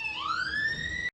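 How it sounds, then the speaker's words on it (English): Ambulance siren in the background: one rising electronic wail that holds steady and cuts off abruptly, fairly clear and alone. "y'all hear that ambulance in the background"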